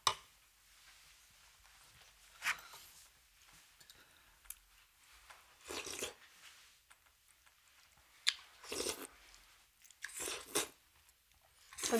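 Someone eating seolleongtang, ox bone soup, with quiet close slurps, wet chewing and occasional sharper crunchy bites scattered irregularly over an otherwise hushed room.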